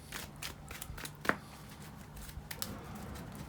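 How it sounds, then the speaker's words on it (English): Board game pieces for a Normandy wargame shuffled on a table in soft, irregular rustles and light clicks, quiet and close, with one sharper tap partway through. "just shuffling away here a little bit"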